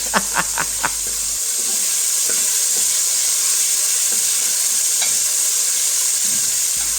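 Beef pieces, about 300 grams, frying in a pan for a cabbage and potato stew, giving a loud continuous hiss and sizzle after a few opening clanks of utensil on metal.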